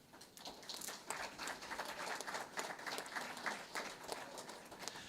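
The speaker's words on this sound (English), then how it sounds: "Let's give them a big round of applause." Audience applause at a signing day ceremony for career and technical education students at a technical college, steady dense clapping from a crowd that holds at an even level throughout.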